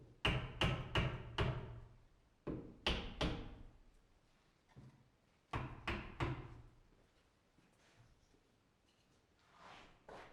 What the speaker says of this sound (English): Don't worry too much about how hard you have to push on the door to get it to shut and latch.